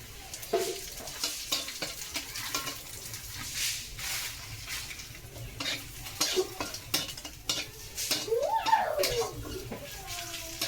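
Spices and vegetables frying in oil sizzle under frequent stirring, with the spatula scraping and knocking against the pan in irregular bursts, close and fairly quiet, with a faint voice at times.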